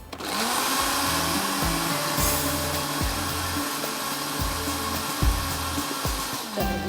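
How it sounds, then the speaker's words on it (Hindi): A blender whirs in short pulses while making chutney, motor starting and stopping repeatedly, loud and near, with bits of food rattling inside. "तो ये थोड़ा आप ब्लेंडर को हल्का हल्का सा आप वो करके चला दीजिएगा"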